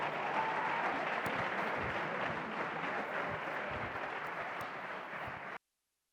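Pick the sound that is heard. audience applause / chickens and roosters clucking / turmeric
audience applause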